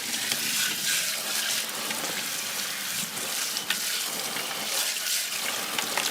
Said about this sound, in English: we're just going to go ahead and turn the water on and take this apart